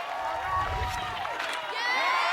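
Studio crowd at an American Ninja Warrior obstacle course cheering and shouting steadily, a dense continuous roar with rising whoops and excited voices through the whole stretch.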